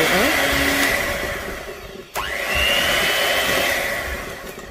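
An electric hand mixer whirs through cake batter ingredients at low speed, a steady close motor drone that briefly cuts out and then spins back up.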